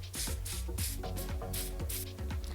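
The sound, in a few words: hairspray being sprayed on a wig hairline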